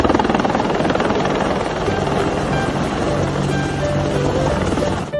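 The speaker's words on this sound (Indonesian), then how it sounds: "Widih, widih, ada helikopter." A loud, steady toy helicopter rotor whir with rapid chopping, running continuously without pause.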